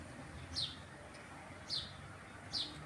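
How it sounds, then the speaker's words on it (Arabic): Sparrows chirp outdoors on a partly cloudy day. Three short, bright chirps come at roughly one-second intervals, moderately distant, over a faint background hum. No one speaks. "شوفوا صوت العصافير"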